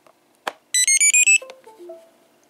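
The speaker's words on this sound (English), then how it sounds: "those two things on the bottom are the buzzers. Now you won't believe how loud that thing is." Eagle Tree Vector alerter buzzers sound a run of five loud, close, piercing electronic beeps in quick succession, preceded by a sharp click and followed by a few softer descending tones.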